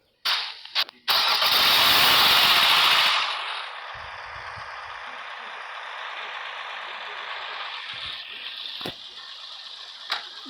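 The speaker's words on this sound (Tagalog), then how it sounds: "start ko na engine." An engine cranks and catches with a loud, broad burst that holds for a few seconds, then drops to a steady idle hum, with a few sharp clicks and knocks on a dusty trip.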